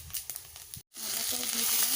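Whole cloves, cardamom, cinnamon and panch phoron sizzle in hot oil, a steady close crackling hiss that breaks off for an instant and then returns stronger.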